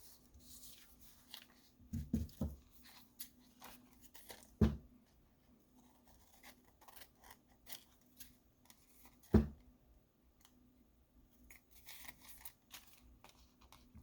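Scissors snip through paper while a window envelope pocket is trimmed, giving a few sharp, close cuts at intervals over a faint, quiet room with light paper handling between.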